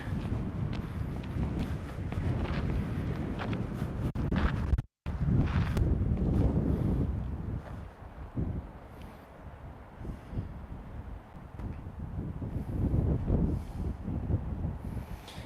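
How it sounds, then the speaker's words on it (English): Strong wind roars across the microphone outdoors in heavy, continuous gusts, briefly cutting out and then easing into a lower buffeting rush. "You want me to show you how much wind there is? There's a lot of wind today."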